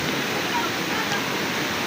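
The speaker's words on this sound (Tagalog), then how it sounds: "init yung lumalabas dito ng tubig ito ang mga tubig galing to siguro ng vulkan" Hot spring water pours out steadily at an outdoor spring site in La Paz, Leyte, a continuous close rushing wash with no breaks and no clear voices.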